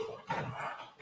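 A pet dog indoors gives one short, soft bark or yip, faint and somewhat distant, with no speech.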